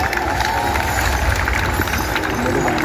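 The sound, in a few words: audience applause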